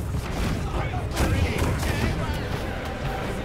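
Ship cannons firing in a naval battle in the pirate video game Vendetta - Curse of Raven's Cry, a dense, rumbling burst of booms that swells around the middle, with a steady low roar of sea and wind beneath.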